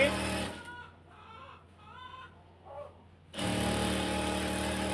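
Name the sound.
sewing the ribbon for the neckline of a hijab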